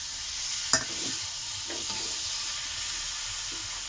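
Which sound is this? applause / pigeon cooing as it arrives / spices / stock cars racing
spices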